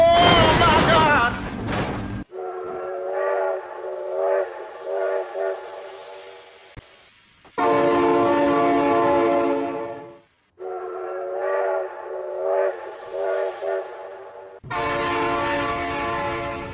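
A cartoon train in a truck-racing animation sounds its horn in long loud blasts, a sustained tone repeated several times and separated by quieter rumbling passages, with excited voices calling out near the start.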